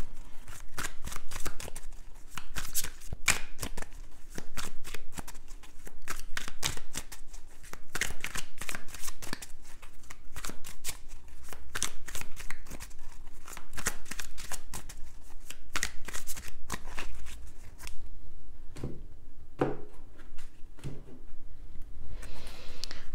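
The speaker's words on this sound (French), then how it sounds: "On va recouvrir les cartes." Tarot cards are shuffled and laid face down in a continuous run of crisp, rapid riffles and flicks close to the microphone. Softer placing sounds come toward the end.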